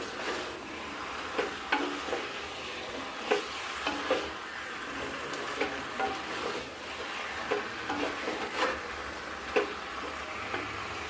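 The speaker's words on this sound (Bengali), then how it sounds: "মাংসটাকে হালকা আমরা ভেজে নিব" Chicken pieces fry on high heat in a clay wok, with a steady sizzle throughout and soft, irregular scrapes and knocks of a stirring utensil recurring every second or so, close and moderately quiet, with no voices.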